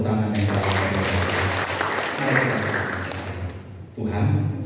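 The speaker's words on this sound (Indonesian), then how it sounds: "berikan tepuk tangan yang paling" A church congregation claps together during a Sunday worship service, a dense wash of applause that swells, thins briefly near the end and picks up again.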